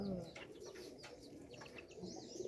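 Pigeons on a farm give soft, low cooing calls, faint and somewhat distant, with a few light chirps and a brief flutter in the background.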